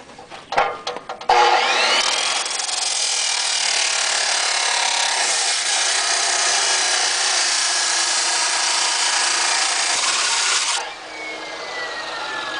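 An abrasive cutting stone on a power tool grinds through a car's steel body for about nine steady, loud, close seconds. It follows a few brief clunks and spins down at the end.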